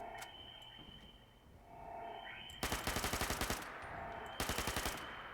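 An automatic rifle in Fallout 76 fires two rapid bursts of roughly ten shots each, loud and crisp against a quiet game ambience with faint background effects.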